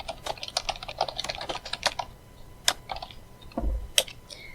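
Rapid typing on a computer keyboard, a dense run of close, crisp key clicks for about two seconds, then a few scattered keystrokes with short pauses in between.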